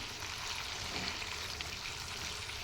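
Chicken pieces for a spicy chicken fry sizzle and hiss steadily in a pan while being stirred, a dense, continuous crackle close up with no talk.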